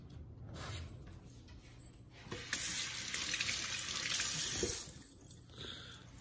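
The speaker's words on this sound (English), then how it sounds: "I'm gonna wash my hands real quick." Tap water runs into a sink during a quick hand wash in a kitchen after portioning raw dog food, a steady close splashing hiss that swells louder midway and then eases off, with no talking.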